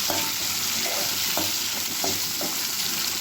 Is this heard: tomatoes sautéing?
yes